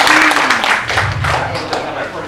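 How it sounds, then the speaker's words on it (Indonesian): An audience applauding at a government cooperative and small business office event in Sumenep, East Java, with the clapping mixed under a voice talking close by throughout the short stretch. "Tepuk tangan dong."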